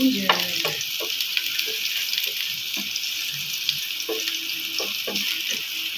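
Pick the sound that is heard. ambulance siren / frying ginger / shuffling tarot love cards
frying ginger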